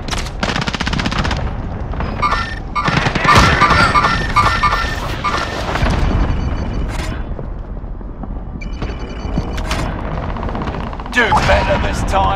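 Gunfire in Call of Duty: Modern Warfare, with dense bursts of automatic weapon fire, crashes and mechanical clatter running loud and continuous throughout.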